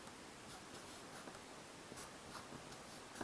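Chalk or marker scratching steadily across a board during a chemistry lecture on the ideal gas law, a quiet continuous scraping with faint room hiss and no talking.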